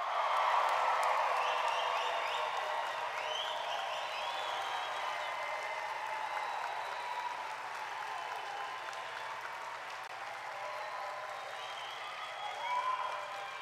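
A graduating class of 2021 gets a long round of applause from the crowd at a school-for-the-arts commencement ceremony. The clapping is dense and steady, louder at first, and it fades a little as it goes on.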